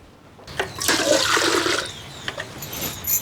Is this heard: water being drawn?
yes